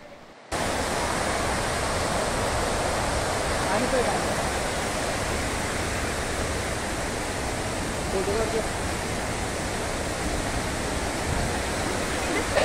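A flooding waterfall at Kapilatheertham in Tirupati, swollen by cyclone rains, roars as a loud, constant, unbroken rush of falling water that fills the whole stretch with no other sounds.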